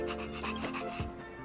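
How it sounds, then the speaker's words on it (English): Asta's pet dog in Honkai Star Rail pants in quick, short breaths over a sustained musical tone, close and brief. "This is Asta's pet dog."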